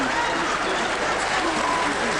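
Audience applause at a live comedy show in a very old building at Millwall FC, a steady wash of clapping with some crowd noise and voices mixed in, filling the whole short stretch at an even level.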